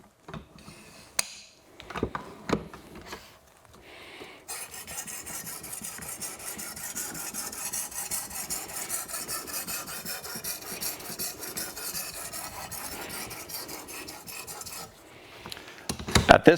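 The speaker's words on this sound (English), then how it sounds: "we're just polishing this knife up to a shiny mirror-like finish" A knife blade is polished on a Precision Adjust Elite sharpener, giving a steady, close, fine rasping rub that runs unbroken for about ten seconds. A few sharper scrapes and knocks come before and after it, with no talk.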